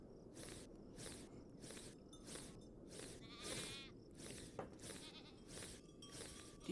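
Goats in the farming game Farm Together 2 bleat repeatedly in a quick irregular series of wavering cries over a soft background of steps and ambience, fairly faint and with no voices.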